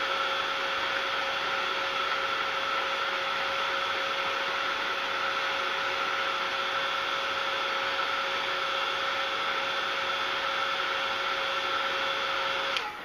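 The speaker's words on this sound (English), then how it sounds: "I hate to run this heat tool on the camera, but I want you guys to understand that it has to be good and dry" A heat tool blows continuously on a glittery paperclip butterfly to dry it, a constant loud whooshing hiss with a faint steady whine that runs without pause, cutting off right at the end.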